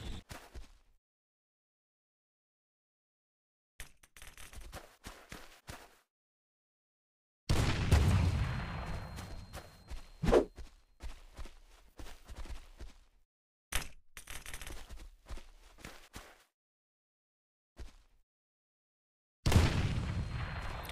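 Grenade blasts in the mobile shooter UGW, several separate loud booms with crackling tails spaced out between stretches of silence, no voices over them.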